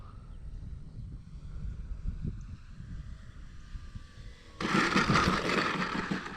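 Gusty wind buffets the microphone, a low steady rumble that jumps into a louder, harsher roar near the end.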